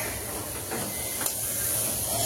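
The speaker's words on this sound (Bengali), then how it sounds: "তাহলে বাগার দিয়ে দিলাম, শুকনো মরিচ দিয়ে দিলাম।" Fried garlic, onion and dried red chili tempering poured into cooked dal, giving a steady loud hiss and steam sizzle throughout with a brief sharper burst midway.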